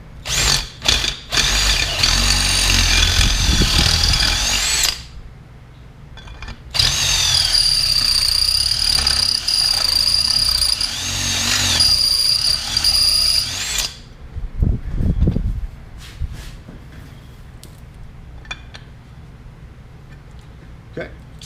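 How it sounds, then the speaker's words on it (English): Dremel rotary tool grinding out the inside diameter of a metal tube to fit a Heim joint end, loud steady high whine in two long bursts separated by a pause, with shorter bursts and clatter around them. "now we just take our Dremel and we open up the inside diameter enough for our Heim joint to"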